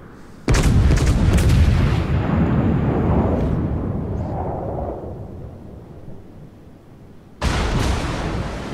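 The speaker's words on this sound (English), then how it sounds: "this is him firing HE at the Monarch" Warship main guns firing high-explosive shells in World of Warships: a huge booming salvo rolls off over several seconds, then a second loud blast follows near the end.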